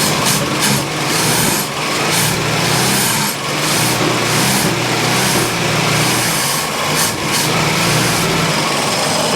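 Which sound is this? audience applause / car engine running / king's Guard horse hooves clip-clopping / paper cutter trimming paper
car engine running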